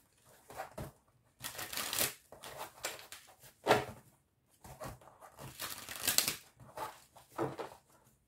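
Tarot cards being shuffled and drawn in bursts of papery riffling and rustling with brief pauses between, close and fairly quiet.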